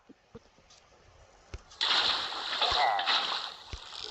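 A sudden watery splash in Minecraft bursts in and sloshes on for a couple of seconds, with sharp clicks and a voice speaking around it.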